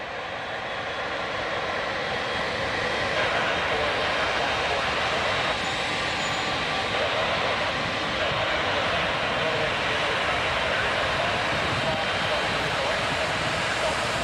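An Air Canada Boeing 787-9 Dreamliner bound for Sao Paulo lines up on the runway at Toronto Pearson at night, a steady broadband jet engine roar holding loud and even throughout, with people talking faintly at times.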